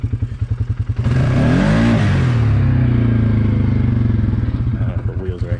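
Motorcycle engine fitted with a new clutch kit, starting with a rapid pulsing idle before a loud, sustained revving surge held near the top for several seconds, then easing off slightly, heard up close.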